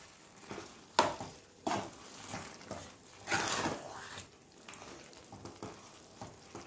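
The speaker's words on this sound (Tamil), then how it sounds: "இப்போ இத நல்லா கிளறி விட்டுக்கலாம்." Soya keema curry stirred in a pan, with a steady frying sizzle broken by several sharp scrapes and clatters of the spoon against the pan.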